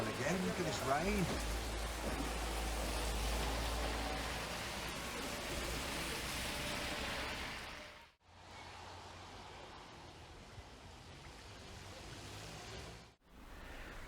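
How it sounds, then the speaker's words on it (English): Steady rain falls outdoors in Shropshire near Ironbridge, a dense, even hiss of drops pattering on surfaces close by, with a low rumble early on and brief dropouts in the sound. "look at this rain"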